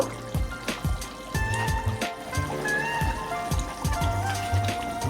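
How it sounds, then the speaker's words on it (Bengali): Aar macher kaliya, a Bengali fish curry, bubbling steadily in a pan on a gas stove, a soft continuous burble and trickle with faint clinks, close and moderately loud. "ভালো করে একটু ফুটিয়ে নেব"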